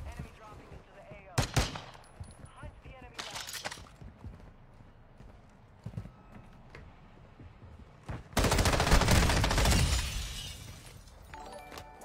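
An M13 rifle fires in a video game: several short bursts of rapid shots early on, then a longer loud barrage near the end, set among thuds and clatter.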